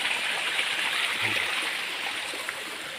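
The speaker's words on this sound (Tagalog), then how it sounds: "Ang ganda ng pangalawang falls natin dito" Second tier of a waterfall on a hillside, a steady loud broadband rush of falling water filling the whole stretch, continuous and close with no pauses.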